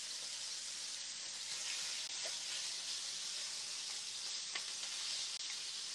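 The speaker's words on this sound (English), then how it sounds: "we're just going to sear as we do french fries" French fries searing in a hot pan give off a steady, dense sizzle and hiss, close and constant, with a couple of faint scrapes of stirring and no talking.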